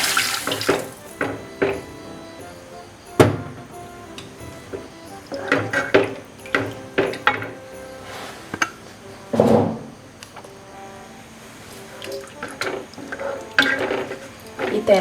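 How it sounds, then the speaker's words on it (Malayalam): Thin second coconut milk goes into a duck roast in a pan, with intermittent splashing pours, sloshing and occasional utensil knocks, close and moderately loud. "ഇതിലേക്ക് നമുക്ക് തേങ്ങാപ്പാലിൻ്റെ സെക്കൻഡ് പാൽ ചേർത്ത് കൊടുക്കുകയാണ് ഞാൻ."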